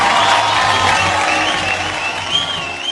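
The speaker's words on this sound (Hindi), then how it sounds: "जोरदार तालियां हो जाए इनके लिए।" Audience applause at a Bollywood award show, a loud continuous wash of clapping from a large crowd with some cheering and background music underneath.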